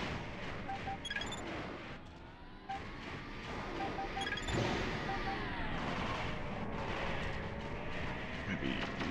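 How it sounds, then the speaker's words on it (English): Mech weapons fire in the video game Armored Core as rapid shots and heavier booms repeat in bursts, mixed with engine hum and whirring tones at a fairly quiet level. "Somebody's shooting at it."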